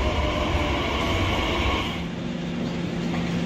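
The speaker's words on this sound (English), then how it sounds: "So we're here at Paddington Station." A train rumbles steadily through London Paddington Station, a loud continuous roar with a faint rising hum, no voices.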